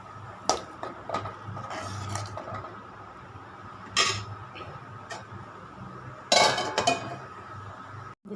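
A cooking pot of appalam kootu rings with a few sharp metallic clinks and knocks from stirring and setting a lid on top, spaced irregularly over a quiet simmering background, no voices.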